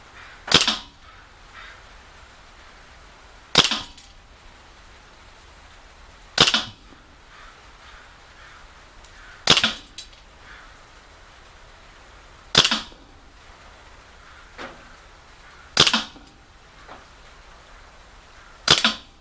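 KWC M1911 and GSG 92 airsoft blowback pistols fire sharp, snappy shots at steady intervals of about three seconds, each crack followed by a softer slide clack, with no talking.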